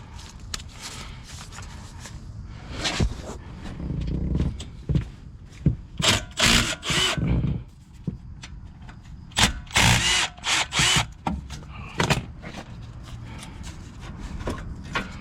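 A power tool fitted with a 13 mm socket removes the front brake bolts on a 2021 Jeep Wrangler. Repeated close bursts of whirring and rattling are broken by clanks and scraping handling noises.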